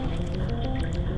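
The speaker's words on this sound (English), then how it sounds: "Looks like we might actually fill the room with water." Brief, wet dripping and squishing of water filling a room in the video game Majora's Mask, several soft drops over a low watery murmur, with no talking.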